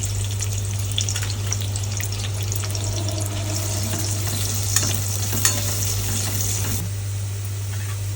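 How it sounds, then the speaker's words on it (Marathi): Onion frying in about two spoons of hot oil for a Malvani mutton curry, a steady close sizzle and crackle throughout with occasional stirring scrapes and a constant low hum underneath, no talking. "आता दोन चमचे तेल टाकलंय ते तापलंय चांगलं आता कांदा टाकते कांदा चांगला लाल करून घेते"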